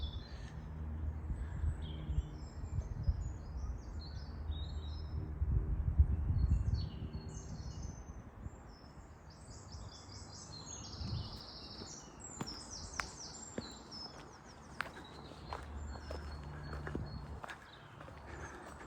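Birds chirp and twitter at a distance in quiet woodland at Ladies Spring Wood, Sheffield, scattered calls over a soft ambient hush with occasional footstep-like thuds.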